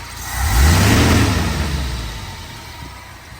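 The 258 engine of a Jeep YJ with a new clutch fan revs up once and settles back down, a close, deep rising-and-falling roar with heavy rushing air from the fan.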